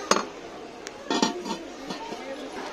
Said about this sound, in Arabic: طناجر فخار